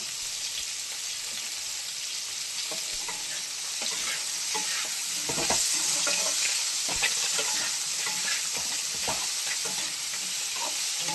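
A pan of food with turmeric and salt fries and is stirred, giving a constant close sizzle with scraping and clatter from the stirring, growing slightly louder midway; no one speaks.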